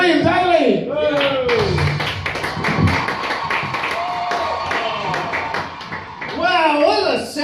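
A comedy-club crowd claps and cheers loudly and steadily for a full house, with a voice calling out over the applause near the start and end.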